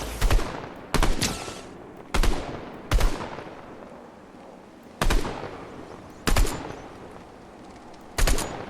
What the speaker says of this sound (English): He's got an auto turret on.